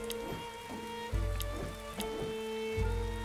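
Rain in the Dead In Vinland video game falls as a steady soft patter, with faint low thumps and a few crisp clicks over a constant hum of game ambience.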